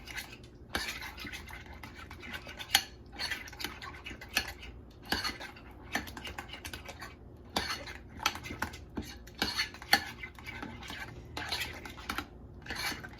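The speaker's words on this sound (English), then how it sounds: "so now we're just going to mix all of this together" A utensil stirs and mixes ingredients in a bowl with a squeeze of lime, giving repeated light clinks and scrapes against the bowl in an irregular rhythm, close and fairly quiet, with no talking.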